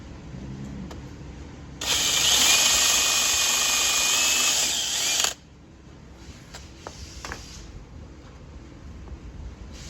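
A power drill whines loudly and steadily for about three seconds while drilling into a 650SX jet ski hull, then stops, leaving quiet handling noises and faint clicks.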